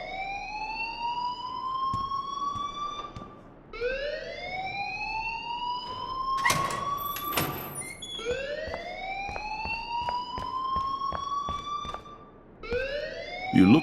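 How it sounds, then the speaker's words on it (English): Alarm in the game Life is Strange, a loud repeating electronic siren that sweeps upward in rising whoops, cycling several times with a brief harsher burst in the middle, no voices. "please turn off that alarm since that's your job"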